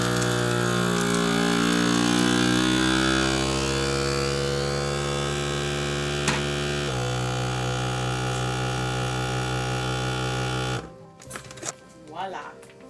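A vacuum sealer pump draws the air out of a bag of asparagus, giving a loud, steady motor drone that drops slightly in pitch midway and then cuts off abruptly near the end.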